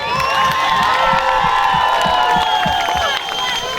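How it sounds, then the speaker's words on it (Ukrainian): A loud festive crowd at a town birthday celebration claps and cheers, with whoops and children's shouts over a rhythmic low thump of background music, sustained and close. "Ще раз оплески ваші."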